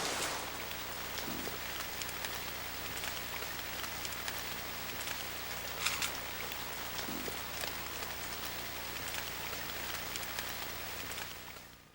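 Steady rain falls on a canoe camp in the Boundary Waters wilderness, a fine continuous patter on surfaces with occasional heavier drops, fairly faint and even throughout with no voices.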